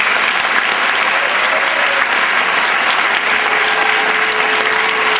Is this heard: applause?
yes